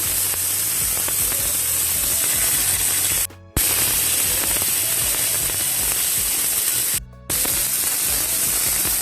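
A salt-and-pepper-seasoned steak sears on a grill with a steady, dense, close hiss. The sound cuts out briefly twice, then resumes.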